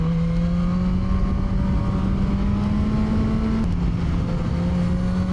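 A QJ Motor SRK 921 motorcycle accelerates hard out of a bend, its engine note climbing steadily and loudly close by, dipping briefly at a gear change before rising again under continuous wind rush.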